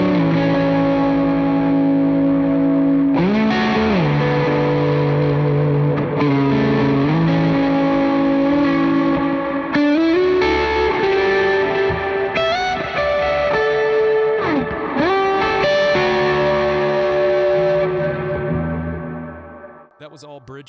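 A fuzzy, distorted electric guitar on the bridge pickup, through a Nero Fuzz (Cornerstone) pedal, plays sustained chords and bends, washed in reverb, with notes ringing out and decaying at the end.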